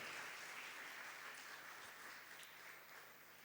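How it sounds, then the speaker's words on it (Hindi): Faint, steady applause from a congregation at an Advent Sunday Mass, clapping for the children who lit the candle. It sounds distant and continuous for a few seconds, with no voices over it. "तो मैं इन तमाम बच्चों के लिए चाहता हूं कि भरपूर तालियों में इनको मुबारकबाद दें।"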